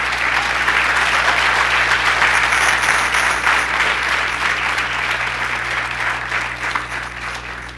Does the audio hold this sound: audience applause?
yes